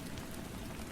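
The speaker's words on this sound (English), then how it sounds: "The soft patter of rain against the window panes orchestrated a calming melody" Rain patters against window panes in a dense, steady hiss of drops, even and unbroken through a short stretch, with no voices.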